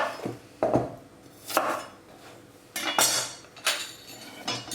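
Carrots being peeled in a kitchen, heard as several brisk, close scraping strokes in an uneven rhythm, each a short rasp with small gaps between, and no talk.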